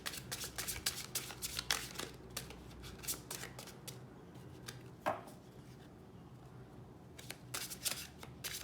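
Tarot cards being shuffled, a rapid run of crisp riffling and flicking bursts that come in clusters, close and fairly quiet, with brief pauses between flurries and no voice over them.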